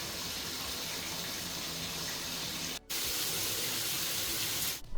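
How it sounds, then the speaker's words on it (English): A cold shower runs steadily in a bathroom, a dense continuous hiss of spraying water that briefly cuts out near the middle and fades at the very end, with no talking. "Okay, first cold shower done"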